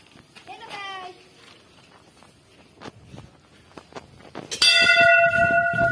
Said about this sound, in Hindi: ये कब से ये घंटी बजाता है।